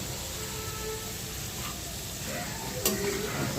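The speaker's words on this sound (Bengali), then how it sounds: "ভাজা হয়ে গেছে আমাদের আলুটা" Potato pieces fry in a pan with a steady, close sizzle, and a light clink of stirring comes near the end.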